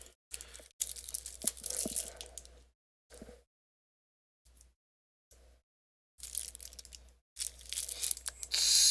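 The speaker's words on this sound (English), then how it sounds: "May just have to use the scissors." Scissors cut and crinkle through the packaging of a Magic The Gathering Classic 6th Edition tournament deck in several close bursts of crunchy tearing, separated by silent pauses.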